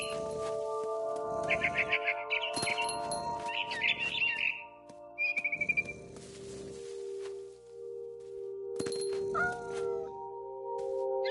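A cat meows in the video game What Remains of Edith Finch, with bird twittering and chirps around it over a steady tonal ambience, plus soft thumps, close and moderately loud with no talking.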